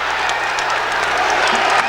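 College basketball crowd at a Georgetown versus Syracuse game applauding and cheering after a blocked shot, a dense, steady wash of clapping and crowd noise in a large arena.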